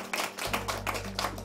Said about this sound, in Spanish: Un aplauso, pues.